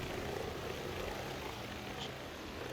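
A small helicopter-like vehicle in the Lego Star Wars video game gives off a steady whirring, droning engine hum, fairly faint and continuous throughout with no voices over it.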